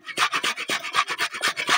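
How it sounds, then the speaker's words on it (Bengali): Onions rubbed against a kitchen grater make quick rasping strokes, about a dozen in under two seconds, each a bright scratchy swish in an even back-and-forth rhythm, close and clear with no talking. "পেঁয়াজগুলো আমি ঘষে নেবো এরম ভাবে।"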